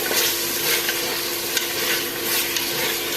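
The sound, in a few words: chicken frying with masala in pan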